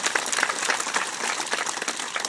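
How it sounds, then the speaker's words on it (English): An audience at a learning lab dedication ceremony gives a round of applause. The clapping is steady and dense and holds at an even level for a couple of seconds with no talking. "let's give them a round of applause too"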